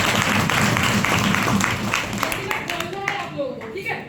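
Audience clapping for the ladies at a speaking event, a dense burst of applause that tapers off, with a voice talking over the fading claps.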